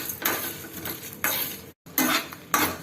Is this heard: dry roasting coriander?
yes